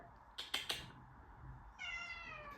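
A cat in a home kitchen gives three quick short meows close by, then after a brief pause a longer, tonal drawn-out meow, with no voices in between.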